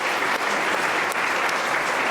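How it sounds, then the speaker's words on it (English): Audience at a mayoral candidate forum in Central Houston clapping loudly and evenly for the moderator, a dense, sustained wall of applause with no voices. "A round of applause for Lisa."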